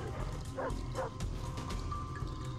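Dogs barking and yipping in the Far Cry 3 video game, a few short bursts at middle distance over a low rumbling game background.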